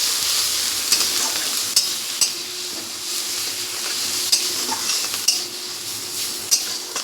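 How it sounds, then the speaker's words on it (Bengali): Ground bottle gourd leaves and shrimp stir-fry in mustard oil, a steady sizzle under repeated scraping stirs of a spatula against the pan, with occasional sharper metallic clicks, close and with no talking. "নাড়াচাড়া করে একটু একটু ভাজা ভাজা করে নেব।"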